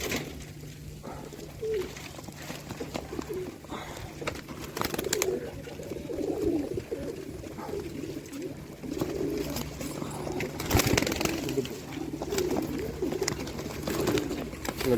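Pigeons cooing steadily at a home pigeon loft, soft repeated low coos layered over one another with light background noise throughout.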